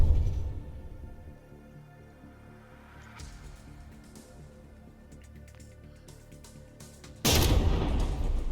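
Battleship turret guns firing in a From the Depths tournament brawl, a steady low rumble of distant cannon blasts broken by a loud, sudden burst near the end.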